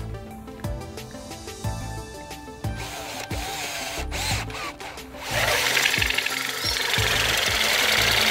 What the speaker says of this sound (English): take a hole saw and drill a substantial amount of the cover